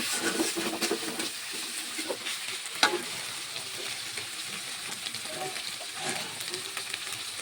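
Meat curry masala frying with dry chilli and turmeric stirred in, a loud, steady sizzle and hiss close up, broken by scraping strokes of a spoon in the pan and one sharp clink partway through.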